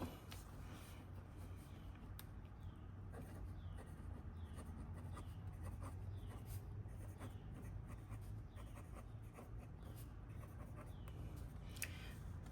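A Conklin Endura fountain pen in orange gunmetal, inked wet, draws lines across paper, giving steady soft scratchy strokes with faint repeated ticks as each line starts and ends.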